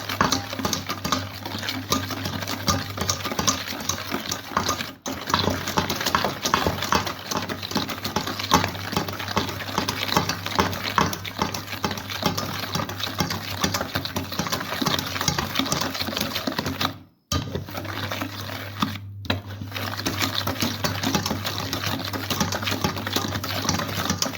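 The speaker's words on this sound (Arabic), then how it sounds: "غنضربهم مزيان، نضربهم المقادير مزيان والبيضه كبيره" A mixer beats eggs, oil and sugar in a bowl with a continuous buzzing whir close by, cut off by a short pause about two-thirds through before running on steadily.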